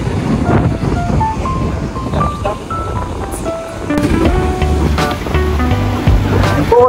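Sea waves in deep open water keep up a steady, loud wash, with wind buffeting the microphone and a low boat-like rumble underneath.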